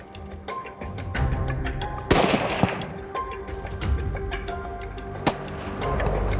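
Gunfire during a crop-raiding baboon control hunt on African farmland: a loud sharp report near the middle and another toward the end, over a busy outdoor background.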